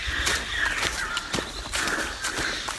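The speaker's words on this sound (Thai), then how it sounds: "ใครรู้ว่าเสียงนี้เป็นเสียงนกอะไรก็" A bird calls repeatedly outdoors near Huai Phai waterfall, a few raspy, drawn-out cries at moderate distance over a steady background hiss.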